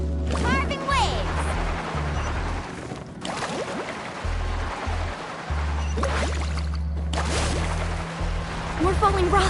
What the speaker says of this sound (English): Carving waves!